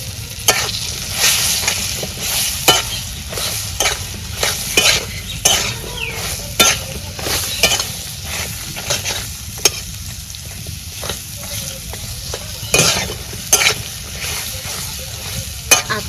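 Pointed gourd (potol) pieces sizzle in hot oil in a pan while a spatula scrapes and stirs them in a steady, frequent rhythm, the clinks and scrapes sitting close over the continuous frying hiss.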